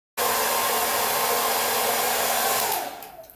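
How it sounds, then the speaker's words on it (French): Hair dryer blowing on hair, switching on abruptly with a loud, steady whooshing roar and a faint whine, then winding down after nearly three seconds. "Là, je procède au séchage. Et comme ça va faire du bruit,"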